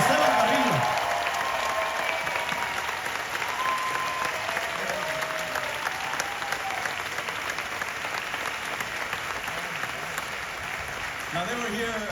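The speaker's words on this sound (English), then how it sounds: "How about a round of applause, everybody" A large crowd at EPCOT's 40th anniversary celebration claps in sustained, dense applause for about twelve seconds, loud and close, with cheers and voices mixed in throughout.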